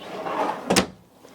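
A drawer on full-extension slides in a 2011 Winnebago Adventurer 35P Class A motorhome gives a soft sliding rumble, then a single sharp knock as it reaches the stop, quiet and close.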